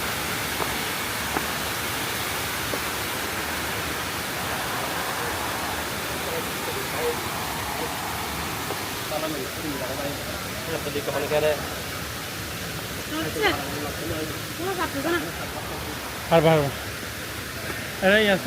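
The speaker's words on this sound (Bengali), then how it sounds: "এটা হচ্ছে কৃত্রিম ঝর্ণা।" An artificial waterfall at Foy's Lake amusement park rushes as a constant broadband roar close by, while people speak intermittently over it.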